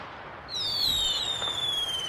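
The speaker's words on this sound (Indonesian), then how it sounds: "Sekali-sekali didengarnya suara petasan yang dibakar anak-anak" A firework set off by children rises with a single bright, whistling shriek that starts suddenly and glides slowly downward in pitch, loud and close, with no voices over it.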